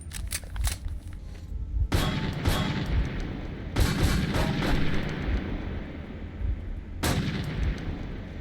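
Metro 2033 gunfire arrives as several heavy bursts of rapid shots, each a loud rumbling volley that rings out between softer stretches, with sharp single cracks at the start.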